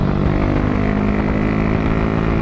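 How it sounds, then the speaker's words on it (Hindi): A motorcycle engine runs at a steady, rough idle, a continuous close-up drone with a dense low rumble and no talking over it. "कैसी लग रही है बाइक की आवाज़ 2 सेकंड सुन लो।"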